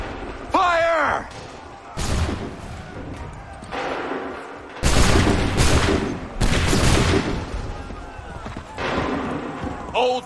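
Musket volleys crack out in a battle of the Assassin's Creed 3 video game, several loud broadband bursts of massed gunfire with rumbling tails, mixed with shouted orders, a horse whinny and battlefield clatter.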